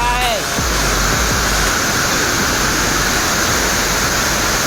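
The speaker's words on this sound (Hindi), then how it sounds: "बहुत पानी आ रहा है, कुछ ज्यादा ही पानी गिर रहा है।" Koshmal waterfall in Dang, Gujarat, swollen with heavy monsoon water, pours in a loud, dense, unbroken roar close at hand, and a voice briefly sounds at the start.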